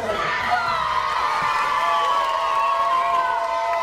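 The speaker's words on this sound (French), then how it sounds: "Je vous demande d'applaudir mon équipe de danseurs professionnels." A lively audience under a circus-style tent at a show in Pont-à-Mousson cheers and shouts, with many children's voices, in a steady, dense roar; any clapping is buried in the noise.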